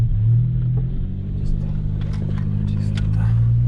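A car idles and drives off toward the city after a fishing trip, with a steady low engine rumble throughout and someone talking over it.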